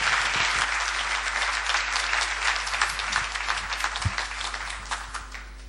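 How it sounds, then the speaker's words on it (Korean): A church congregation at a worship service gives a sustained, dense round of applause to welcome a guest preacher, heard steadily across the clip with no talking over it. "우리 강사님을 위해서 힘찬 박수로 환영의 뜻을 표하겠습니다"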